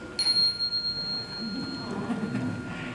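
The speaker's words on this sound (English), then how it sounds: "now our newest, highest, smallest bell, weighing in at 7 ounces," The smallest handbell of a church handbell choir, a 7-ounce C8, rings once in a bright, sustained high tone that slowly decays over soft room noise.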